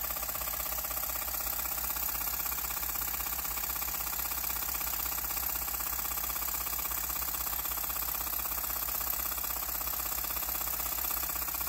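A twin-cylinder horizontal mill-type steam engine with a flyball governor, running on 90 psi compressed air, chuffs steadily in a fast, even mechanical rhythm, close and moderately loud, with no voices.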